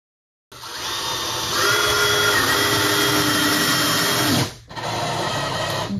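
A power screwdriver drives screws into wooden ceiling battens, a loud, close, sustained whirring motor that rises in pitch, cuts off briefly near the end, then restarts.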